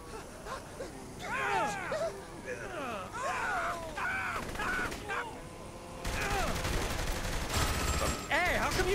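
Gunfire rattles in the video game Saints Row III: bursts of shots run under frequent shouting, groaning and yelling voices, the firing denser and louder in the last few seconds.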